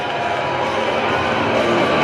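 An arena basketball crowd cheers during a halftime dressing race, with a dense, loud, sustained roar of many voices that holds steady throughout.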